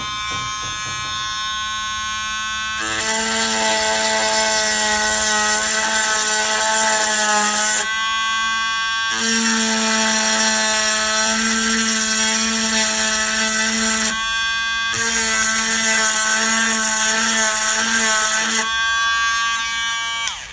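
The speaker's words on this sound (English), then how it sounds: "I'm going to go over it with my Dremel tool" Dremel rotary tool engraving painted stained glass, a high whining buzz in three long bursts with short lower-pitched pauses between, close and steady.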